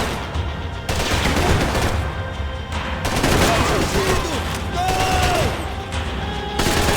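Dense, continuous gunfire fills a shootout in the video game Max Payne 3. Rapid automatic bursts overlap with heavy single shots and booms, loud and close, with voices speaking faintly underneath.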